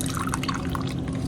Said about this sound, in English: and pour it in here